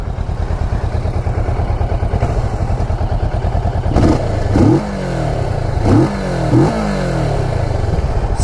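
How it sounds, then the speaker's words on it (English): A 2016 Kawasaki Vulcan S motorcycle idles with a steady, loud thrumming pulse, then is blipped a few times, each short rev rising sharply and falling back to idle. "let's go ahead and hear how it sounds"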